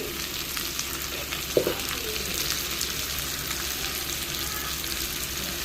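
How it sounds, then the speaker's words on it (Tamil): Onion and goat intestine sauté with turmeric in a pan, giving a steady, even sizzle close by, with one brief knock partway through. "வெங்காயத்தை ஒரு வதக்கு வதக்கிட்டு அப்படியே சேவட்டியை போட்டுட்டு கொஞ்சோண்டு மஞ்சப்பொடி"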